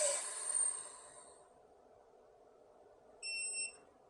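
Three high, clean electronic beeps from a chamber vacuum sealer sound faintly near the end, signaling the bag is sealed, after a soft hiss of air flowing back into the chamber.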